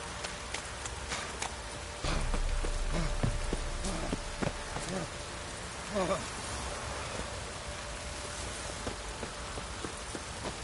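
Steady rain pours down in the video game Witcher 3 with a dense hiss, scattered drops and soft thuds, while faint rhythmic hoof-like clopping and background sounds pass through.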